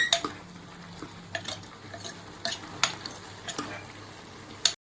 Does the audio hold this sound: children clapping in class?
no